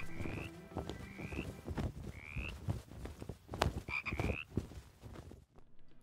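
Frogs croak in a quick series of short, rising chirp-like calls, fairly close and clear, mixed with scattered clicks and knocks and no talking.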